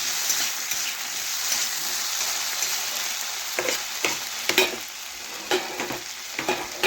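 Potatoes and carrots frying in a pan of oil while being stirred, a continuous close sizzle with scraping and tossing bursts growing more frequent toward the end, no speech.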